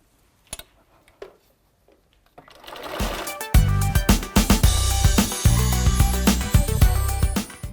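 Sewing machine stitching the last seam of a quilt, starting after a few soft clicks and handling noises, then running in a fast, loud mechanical rattle with brief pauses and speed changes.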